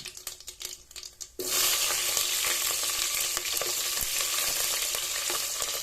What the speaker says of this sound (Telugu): నూనె మంచి కాక మీదకి వచ్చింది ఆవాలు వస్తున్నా